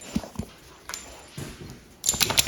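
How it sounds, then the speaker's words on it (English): A dog whimpers in short soft bursts near a workshop where a Porsche Cayman is being built into a track car, followed by a louder cluster of sharper sounds at the end. "We need a dog for the videos."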